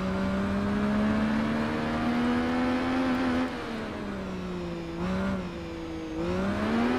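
A motorcycle engine in the Tourist Trophy racing video game revs high and steady as the rear wheel spins up, pitch wavering and dipping briefly a couple of times, loud and continuous with no talking.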